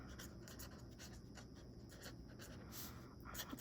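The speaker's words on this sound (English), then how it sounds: "So I'm just going to write" A Prismacolor brush marker writing on paper, a faint, close, continuous scratchy stroking with a few quick flicks, no talk heard.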